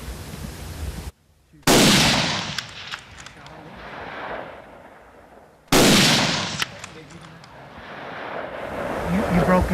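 Two loud rifle shots are fired at an elk outdoors in misty hunting country, about four seconds apart. Each blast rolls into a long, fading echo, with voices briefly around them.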